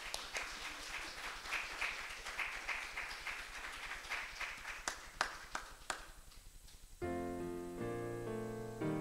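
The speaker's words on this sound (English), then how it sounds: "let's give a big round of applause to Richard Forbes" A Sunday service audience gives a round of applause for Richard Forbes, the clapping thinning into scattered individual claps before piano or organ music takes over for the last couple of seconds.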